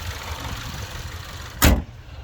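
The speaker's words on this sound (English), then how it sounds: "I like to drop the hoods" A single heavy thump as the hood of a 2023 Subaru Outback Premier XT with a 2.4L turbo engine is dropped shut, sharp and close, over a steady low background hum.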